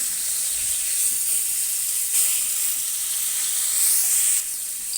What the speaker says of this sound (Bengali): অন্য পাশে আমি মাছগুলো ভেজে নেব